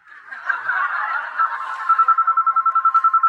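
A telephone ringing indoors, a rapid electronic trill pulsing in quick regular beats after a brief warbling start, close and clear with no talk.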